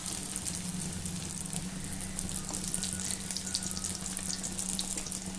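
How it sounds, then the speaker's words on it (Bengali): Chicken pieces frying in oil give a steady, dense sizzle that carries through the whole stretch without a break, with a low hum running underneath. "চারিদিকটা ঘুরিয়ে ঘুরিয়ে সুন্দর করে ভেজে নেব।"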